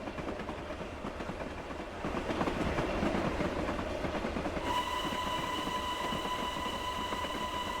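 Train rumbling past Heighington Station on the Stockton and Darlington route, a steady rolling roar that swells partway through, with a sustained tonal whine joining in toward the end; no talk.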